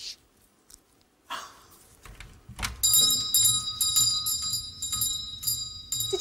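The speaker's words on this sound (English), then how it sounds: "Don't forget to listen for that bell." A bright shop bell rings repeatedly with a shimmering, sustained tone after a few scattered knocks and rustles.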